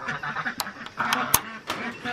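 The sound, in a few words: guinea fowl calling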